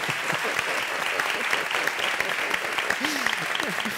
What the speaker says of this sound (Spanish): Y que aplaudáis a la gente.